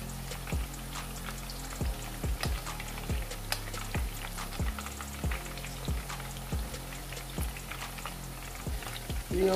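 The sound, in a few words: mutton koftas frying in oil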